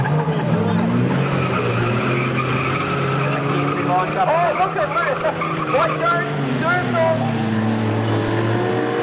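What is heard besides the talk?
race cars skidding in chain race at speedway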